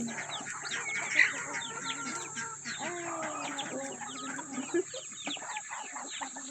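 Native chickens cluck repeatedly in a lively flock, mixed with a few rooster-like calls, moderately close with steady farmyard background and no talk.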